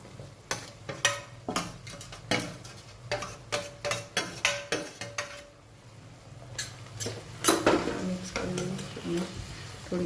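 Metal utensils clatter and scrape against a cooking pan in irregular clusters of sharp clinks as onions and tomatoes cook, with a faint sizzle underneath and short pauses between bursts.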